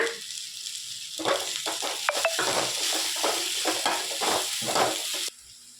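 Vegetables hit a hot frying pan and get stirred, giving a steady close sizzle broken by scraping and clinking utensil strokes, then an abrupt drop to quiet; the dish is a red cabbage kuzhambu.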